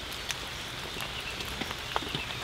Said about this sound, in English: also to let you hear the sound of the rain